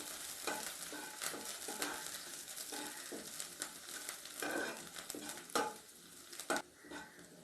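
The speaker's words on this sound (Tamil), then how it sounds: "இப்போது நல்லா வதக்கி விடுங்க." Garlic, green chilli and curry leaves sauté in a pan for chilli idli, giving a steady sizzle and frying hiss broken by repeated stirring scrapes and clinks of a utensil against the pan.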